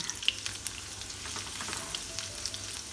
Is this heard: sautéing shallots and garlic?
yes